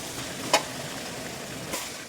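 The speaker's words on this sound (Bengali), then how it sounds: "এবারে মাংস দিয়ে দিচ্ছি," Mutton frying with onion, ginger-garlic paste, cumin-coriander paste and tomato, giving a low steady sizzle with two brief scraping stirs.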